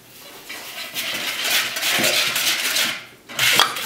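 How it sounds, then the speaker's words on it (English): Sugar whisked into a pumpkin cheesecake mixture in a bowl, a continuous close scraping swish with a brief pause before it resumes. "So let's mix this together."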